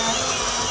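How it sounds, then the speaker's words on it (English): Drill boring out the center piece of a cut metal patch on a rocker panel, a steady loud whirring grind that runs unbroken through the short moment with no talk. "I'm going to follow it up with a pilot tapped drill that will drill out that center piece"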